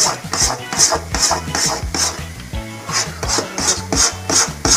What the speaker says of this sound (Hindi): चम्मच चलाते रहिए